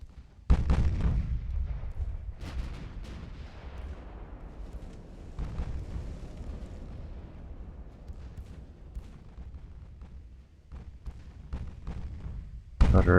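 Warship gun batteries firing in Ultimate Admiral: Dreadnoughts, heavy booming salvos with rolling rumbles, a big blast at the start followed by more distant thuds and another loud volley at the end.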